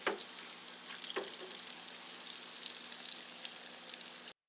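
Breaded chicken gizzards and livers, dipped in egg wash and flour, deep frying in hot oil: a steady, dense sizzle with a few brief crackling spikes as pieces drop in, constant throughout and close.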